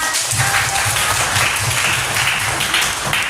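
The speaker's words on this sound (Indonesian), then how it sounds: "Oke, tepuk tangan ya semua." A class of students applauding together in a classroom, steady rapid clapping filling the room close and loud, then cutting off abruptly.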